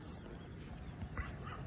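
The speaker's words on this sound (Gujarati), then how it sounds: "કુતરા બોલતા હતા" Dogs bark and yip faintly in the distance, a few short calls rising out of a steady, muffled outdoor hiss.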